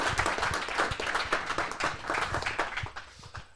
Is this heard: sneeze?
no